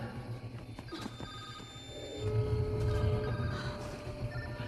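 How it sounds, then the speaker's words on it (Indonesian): A mobile phone rings in the woods in a film scene, giving a faint, steady electronic ringtone beneath a low rumbling background with no speech. "Sambil mencari HP, dia pun terus menelepon HP-nya menggunakan HP milik ayahnya."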